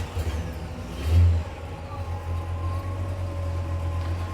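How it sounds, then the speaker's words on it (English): A 1954 Chevy Bel Air engine runs at a steady idle, rising in a brief rev near the start before settling back into a constant low rumble, close and alone. "I'm gonna show you how the motor sounds now"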